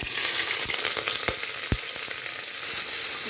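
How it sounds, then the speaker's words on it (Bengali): Four onions and a green chili frying in hot oil in a home kitchen pan: a loud, constant sizzle with a few soft knocks of stirring, and no voices. "পেঁয়াজটা ভাজা ভাজা হতে হবে"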